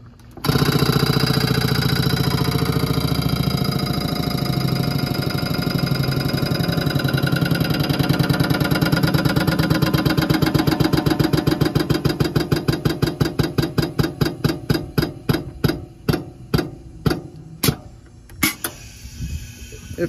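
Pump of a JWI 5 cubic foot air/hydraulic filter press running loud and steady, its rapid pulsing strokes gradually slowing into distinct, evenly spaced thumps toward the end.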